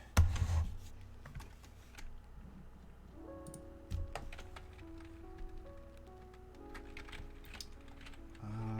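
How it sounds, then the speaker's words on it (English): Quiet, scattered clicks from typing on a computer keyboard, arriving in short irregular runs against a soft background hum with faint tonal sounds. "Kind of hard to get at my keyboard."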